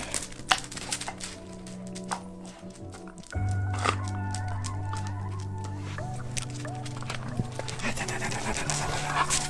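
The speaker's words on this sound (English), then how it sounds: "She's a Malinois, by the way, a Belgian Shepherd also called." A Belgian Malinois dog pants rapidly and close by, breathy huffs repeating over a low steady hum while a person talks.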